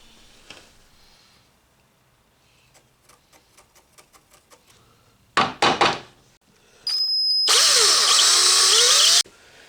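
Number 8 panhead screws driven into the rails of an expanding dining table: soft, evenly spaced ticks and a few loud knocks, then a steady, loud power-driver whine lasting about two seconds.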